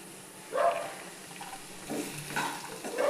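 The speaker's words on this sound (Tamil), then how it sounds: "வெண்டைக்காவை சேர்க்கலாம்." Okra sizzles in a hot pan with curry leaves and dried red chillies, a steady crackle of frying broken by a few louder bursts of stirring, close and with no talk.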